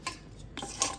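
Rice flour kasar laddu mixture being mixed in a bowl, giving a short run of soft scrapes and light clinks against the bowl, close and fairly quiet.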